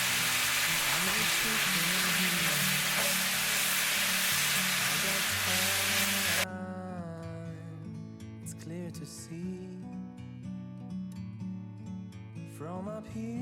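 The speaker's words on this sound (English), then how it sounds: "once that bacon starts to cook and we start to get that bacon grease rendering down" Bacon sizzles and renders its grease in a pan, a steady broadband hiss filling the first half before dropping away under quieter kitchen sounds, with no talking.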